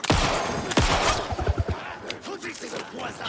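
Gunfire in the survival horror game Alan Wake 2, a pair of sharp, loud shots close together near the start, followed by a player talking over quieter game sounds.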